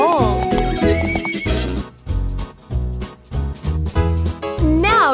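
A horse whinnies loudly with a high, wavering neigh, then hooves clip-clop in a steady rhythm, and another shrill whinny rises at the end.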